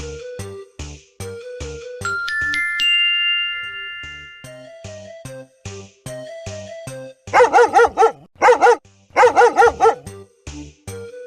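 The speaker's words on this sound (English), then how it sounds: "He barked and barked and barked until Henry's mother opened the door." A dog barks in short, sharp bursts as a new dog passes in front of a house, with loud clustered barks toward the end over a backdrop of jingly, musical sound effects; no talk.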